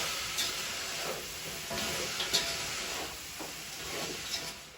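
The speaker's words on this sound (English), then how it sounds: "we're going to stir this and allow it to fry for a few minutes" Dry-seasoned vegetables for Guyanese veggie chow mein fry in a pan, a soft steady sizzle with occasional scraping stirs, quiet and close with no talking.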